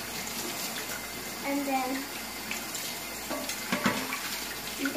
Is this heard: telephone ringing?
no